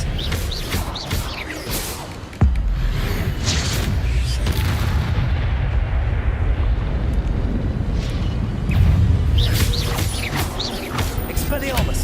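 Spell effects cast in Hogwarts Legacy, booming magical blasts and bursts layered over continuous busy game noise, with a sharp hit near the start and a swelling surge later.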